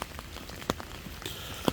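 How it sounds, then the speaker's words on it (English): Heavy storm rain falls at Walsall Arboretum, a dense steady patter close by with scattered louder drops striking nearby surfaces. "it's still going, this rain"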